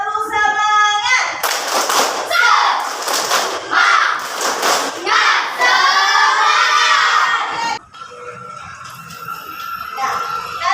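A school class does a rhythmic spirit clap, with sharp bursts of group clapping alternating with loud children's chanting and shouting, close and energetic throughout.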